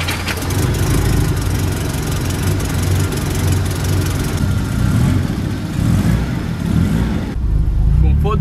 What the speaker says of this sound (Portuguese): Dá uma partida nesse aqui pra gente deixar funcionando e vamos ver se o bichão liga